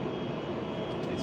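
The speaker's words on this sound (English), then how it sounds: "These planes." Airplane engines roar at an airport, a loud, steady, broad rush that lasts the whole moment, close and unbroken.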